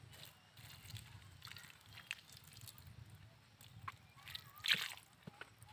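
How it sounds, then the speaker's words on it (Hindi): Water is poured onto tomato plants in quiet, intermittent sloshes and splashes with small drips, faint and close, with no talk. "तो मैं इसमें पानी डाल रहा हूँ।"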